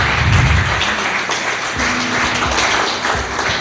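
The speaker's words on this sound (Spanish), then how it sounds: "Dale un fuerte aplauso al Señor." A church congregation claps for the Lord during a service, a dense, steady wash of applause that fills the room evenly from start to finish.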